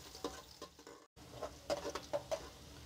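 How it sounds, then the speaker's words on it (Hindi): Chopped onions frying in hot oil in a home kitchen, a soft crackling sizzle with irregular stirring scrapes and small pops, faint and close, with a brief silent gap partway through. "अब इसमें हम प्याज डाल देंगे, थोड़ी ऑयल थोड़ा सा गर्म हो गया।"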